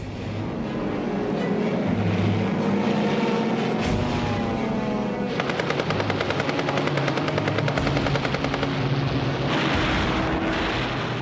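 Propeller attack aircraft over a Japanese convoy in the Pacific war drone loudly and continuously, joined midway by rapid rattling bursts of gunfire, with no talk.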